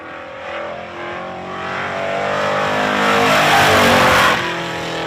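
Race car number 23 roars through its first lap, the engine note building steadily to a loud, close peak before easing off slightly as it moves away.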